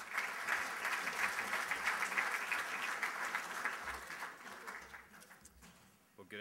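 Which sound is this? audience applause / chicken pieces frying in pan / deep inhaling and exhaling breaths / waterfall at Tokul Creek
audience applause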